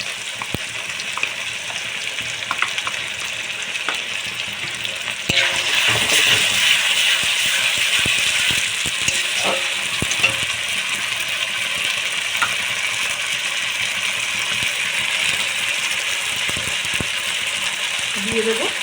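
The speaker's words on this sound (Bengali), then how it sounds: "পেঁয়াজ ও টমেটো আমার ভাজা হয়ে গিয়েছে। দিয়ে দেবো আমি আদা ও রসুন বাটা।" Onion and tomato frying in a pan, then ginger-garlic paste added, bringing a sudden louder steady sizzle with scattered clinks and stirring, under a voice talking.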